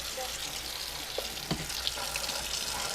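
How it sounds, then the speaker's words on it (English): Hot tap water runs steadily into a sink and drizzles over a circuit board from a Sony CCD-V701 camcorder, a constant close splashing hiss with a few small clatters. "So I'm just going to go ahead and start by just adding hot water to the board."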